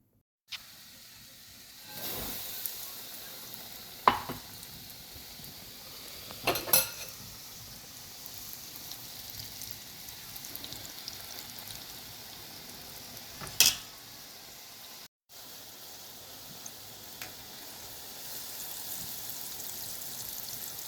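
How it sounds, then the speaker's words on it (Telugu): Small wheat-flour balls frying in a pan, a soft continuous sizzle with a few sharp utensil clicks and scrapes now and then, fairly quiet and close, no talking. "ఇవి ఇంకో కొంచెం ఫ్రై కావాలి. గోధుమ పిండితో చేసుకున్న బాల్స్ ఫ్రై అయినాయి"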